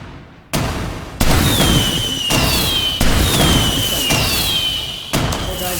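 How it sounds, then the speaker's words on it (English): Fireworks burst in a rapid series of sharp booming cracks, about five loud explosions each trailing off into crackling and whistling fizz, close and dominant. "I think I deserve fireworks"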